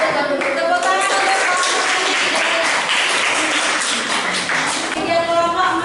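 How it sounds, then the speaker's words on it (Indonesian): A classroom group claps together after a presentation, a dense sustained round of applause with scattered voices mixed in. "Tepuk tangan untuk"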